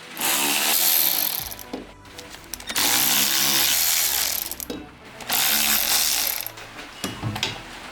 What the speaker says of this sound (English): go get myself a new fancy ratchet